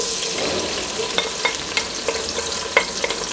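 Chopped onion sizzling in hot ghee while a spoon stirs it, with a steady frying hiss broken by several sharp scraping clinks against the pan.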